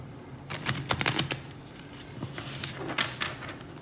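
A new tarot deck is shuffled by hand, producing quick bursts of crisp riffling and slapping card clicks, close and fairly loud, with short pauses between bursts and no talking.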